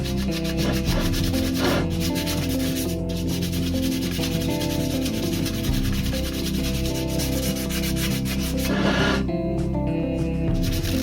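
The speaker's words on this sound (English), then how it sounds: "we're going to go by hand and get into any of the hard to reach areas where our DA sander couldn't get into." Car wheels being hand sanded with 120 grit sandpaper in hard-to-reach spots a DA sander missed, giving a steady, close scratchy rubbing that continues without a break, with a few brief sharper scrapes.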